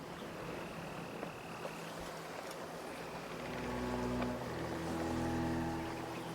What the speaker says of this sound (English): The Jackdaw's got no business sailing such shallow waters.